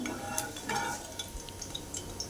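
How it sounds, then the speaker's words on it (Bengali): A metal spatula stirs heated oil in a pan before paneer goes in, with light scraping and clinking taps over a soft, low sizzle, close and fairly quiet. "তেলটা একটু গরম করে নিলে যে কোনো জিনিস ভাজলে খুব সুন্দর তাড়াতাড়ি উঠে যায়, এই জন্য আমি একটু খুন্তি দিয়ে একটু নেড়ে নিচ্ছি"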